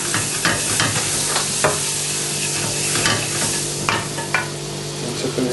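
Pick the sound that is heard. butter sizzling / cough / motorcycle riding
butter sizzling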